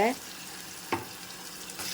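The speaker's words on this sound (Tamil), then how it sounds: "வெங்காயம் தக்காளி இதெல்லாம் நல்லா வணங்கட்டும்" Onions and tomatoes sizzle and sauté in a hot pan with a soft steady crackle, a brief clatter of stirring partway through.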